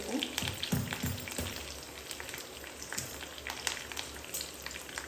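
Garlic fries in a pan with a soft, continuous sizzle broken by sharp crackles and pops, heard close and fairly quiet.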